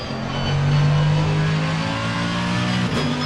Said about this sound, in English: Let's have a little listen to that rather dirty Mercedes engine